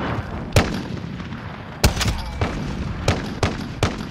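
Sniper rifle shots in Call of Duty: Modern Warfare, a string of sharp, loud single cracks spaced irregularly, each followed by a short echo against a low background rumble.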